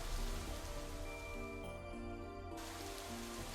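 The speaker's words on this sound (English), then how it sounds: "Rain begins to fall," Rain falls steadily against windows in the video game Psychedelica of the Black Butterfly, a soft, even hiss beneath sustained musical tones.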